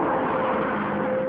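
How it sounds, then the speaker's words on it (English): A Morris Ital car accelerates, its engine giving a steady, loud, smooth roar through a brief, continuous stretch. "a new car that accelerates faster from 0 to 60 than a Saab 900 GLS"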